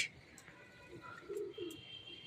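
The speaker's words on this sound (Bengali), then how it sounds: "তো এই যে পায়রা বাড়ির মাথা ধরে উঠছে" Pigeons flying up around a house roof give a few soft, low coos, faint and distant against quiet outdoor background noise.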